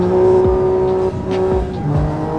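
A BMW M3 F80 engine revs hard toward its redline, a loud, sustained, high-pitched howl with a few brief dips between pulls, and no voices.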